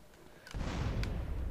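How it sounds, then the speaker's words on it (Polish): Fireworks in Grand Theft Auto San Andreas go off as a sudden burst partway through, followed by a sustained crackling rumble. A faint thump comes before it, and there is no talk. "Fajerwerki."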